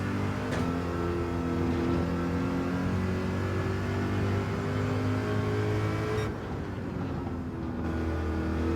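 Corvette race car engine in Gran Turismo 7 at Le Mans, a loud steady drone with a sharp downshift blip near the start and a brief dip as the driver lifts off later.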